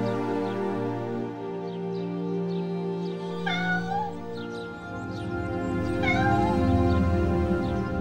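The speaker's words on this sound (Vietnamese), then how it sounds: "con mèo nhà ai đây?" A cartoon cat gives two loud, drawn-out meows a few seconds apart over sustained background music, close and clear, with the second cry rising and wavering.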